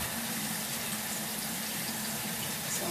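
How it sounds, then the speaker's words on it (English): Tap water runs steadily into a sink while face wash is rinsed off by hand, a close, continuous splashing hiss with no voices. "I just used my fingers there to rinse, to wash that off really good"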